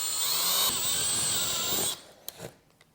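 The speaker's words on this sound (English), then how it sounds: "Now, I have my drill, and it has a hole saw." A power drill drives a hole saw through a mini-fridge door, a loud sustained whining grind lasting about two seconds before cutting off, followed by a few light knocks and clatters.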